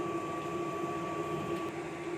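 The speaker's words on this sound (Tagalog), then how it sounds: "ito po ang sublimation machine namin dito sa Short Planet Ojon 2" A sublimation printing machine runs with a steady, even mechanical hum and a thin whine, moderately faint and unbroken, with no voices.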